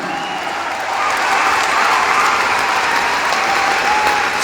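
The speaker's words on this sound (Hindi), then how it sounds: "जोरदार तालियां होनी चाहिए।" An audience at a network marketing event breaks into loud, sustained clapping, a dense wash of many hands that swells after the first second and holds steady with no voices on top.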